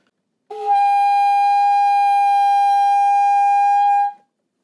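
A single sustained high E on an alto saxophone, held steadily for about three and a half seconds before stopping, with silence on either side.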